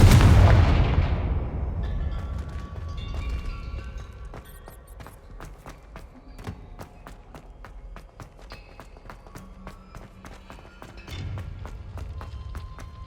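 Confringo fire spell blasts in Hogwarts Legacy: a loud booming burst at the start fades into a run of sharp, evenly spaced cracks and thumps, with a second swell of rumble near the end, no talking.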